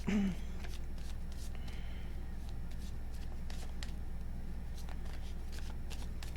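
Tarot cards are shuffled twice by hand, a soft, quiet riffling with light clicks over a low steady hum.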